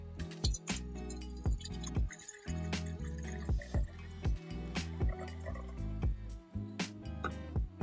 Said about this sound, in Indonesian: pertama-tama saya isi wadahnya dengan air setengah botol atau tidak sampai ke garis daratan